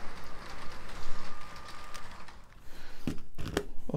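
A model ICE train rolls into a station on a brick-built layout with a faint, steady rumble and hiss of wheels on track, broken by a couple of sharp clicks near the end.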